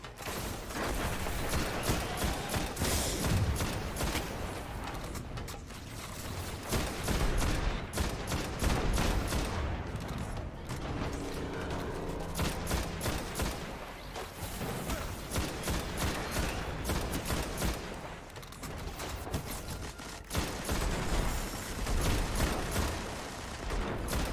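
Sustained gunfire in Destiny 2 pours toward the player, dense rapid bursts and volleys crackling continuously for over twenty seconds with brief lulls, loud and close.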